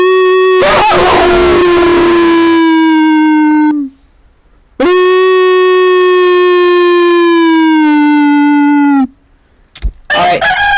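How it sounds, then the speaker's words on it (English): A dog lets out two long, loud, sustained howls that slowly fall in pitch, separated by a short pause, followed by a brief yelp and some closing sounds. "What, you wanna howl some more,"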